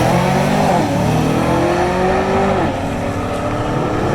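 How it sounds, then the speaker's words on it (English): A Cadillac CTS-V coupe roars down the drag strip at Tulsa Raceway Park, a loud, close, continuous engine note rising through the gears with a brief shift dip, no voices. "Left lane, the cts-v coupe."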